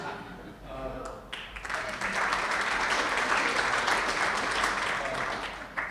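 A voice speaks briefly, then a crowd breaks into sustained applause, dense clapping filling the room steadily for several seconds.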